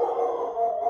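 A dog's steady, sustained howl rises close and clear, with no talk over it.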